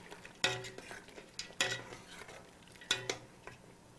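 A spoon stirs goat-meat West African pepper soup in a pot, giving three sharp metallic clinks against the rim, each followed by softer scraping and sloshing, close and fairly quiet.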